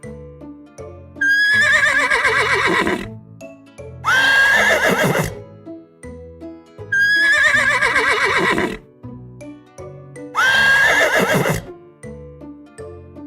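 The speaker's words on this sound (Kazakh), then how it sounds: "Жылқы и-го-го-го-го, и-го-го-го-го дейді." A horse neighs loudly four times, each whinny rising then shaking down, with short quiet gaps between them.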